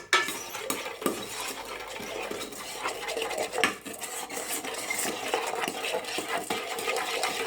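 A utensil stirs corn kernels and sugar through hot oil in a rice cooker pot, giving a steady, close scraping and rattling with clinks of metal against the pot and a faint sizzle underneath, continuous with no talking.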